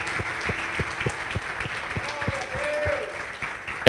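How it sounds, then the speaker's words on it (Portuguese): A church congregation applauds together, a steady wash of clapping with a few sharper individual claps standing out, and a voice or tone briefly audible near the end. "Eu queria que toda a igreja agora desse uma salva de palmas pela vida dessa liderança."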